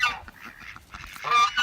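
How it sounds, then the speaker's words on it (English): Loud goose honking on a homestead near a chicken coop, a couple of harsh, nasal calls opening and closing the short stretch with quieter noise between, no voices. "Let me go ahead and apologize for the loud noise of Sunshine."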